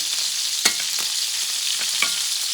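A petite sirloin steak sizzles steadily in a hot pan while being basted with butter and mashed garlic, a continuous loud fry with a few sharp spoon clinks against the pan.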